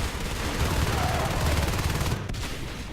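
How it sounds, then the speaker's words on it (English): Shotgun fire in the Natural Selection 2 video game comes as a constant, loud burst of rapid shots and noisy battle clatter, filling the whole moment. "Depends on how Fate can work against those shotguns"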